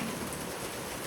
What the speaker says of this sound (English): I'm just using their porch until the rain and the thunderstorms go by.